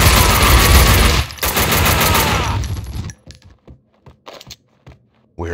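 Gunfire in Max Payne 2, a loud, dense burst of rapid shots lasting a few seconds, then scattered sharp clicks and single reports near the end.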